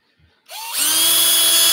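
A power drill boring a pilot hole in wood for an Adirondack chair, starting abruptly and rising into a loud, steady high whine that holds to the end.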